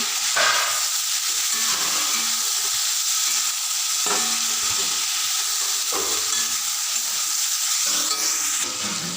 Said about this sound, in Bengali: এবার আমি এর মধ্যে দিয়ে দেবো ভেজে রাখা ঢেঁড়সগুলো দিয়ে চিংড়ি মাছের সঙ্গে ভালো করে মিশিয়ে নেব